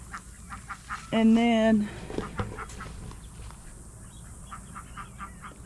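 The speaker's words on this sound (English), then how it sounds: "She's got 3 little ducklings following her." A mother duck with three little ducklings gives a loud, close, brief honking quack among light outdoor background noise, with a person's voice talking briefly over the scene.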